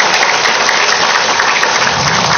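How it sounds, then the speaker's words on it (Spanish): Loud, dense clapping fills a hall at a public citizens' meeting, a sustained wash of many hands with no break and no talk over it. "Quiero pedirles unas palmas muy fuertes para Diego,"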